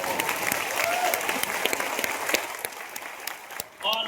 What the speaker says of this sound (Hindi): और स्टाफ के लिए तो जितनी भी बजा सकते हो।